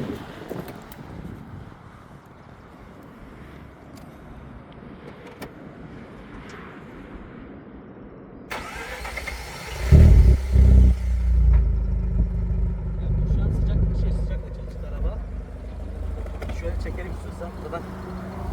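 A Mazda RX8 rotary engine cranks and fires, then settles into a loud, rough, rumbling idle with revs, heard from behind the car outdoors amid wind noise, with people talking before it starts.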